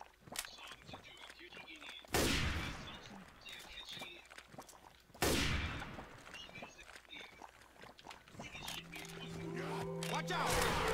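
Two loud, sharp gunshots in the zombie shooter Left 4 Dead 2, one near two seconds and another near five, each cutting through steady game noise and talking players.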